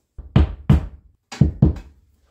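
Anchors are hammered into a wall while a battery-powered LED wall lamp is installed, giving two pairs of sharp, close knocks with a short pause between the pairs and no talking.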